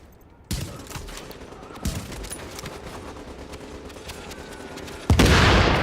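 Gunfire in Tom Clancy's The Division with an M700 rifle, a few sharp isolated shots followed by a loud burst at the end, over a low steady game background.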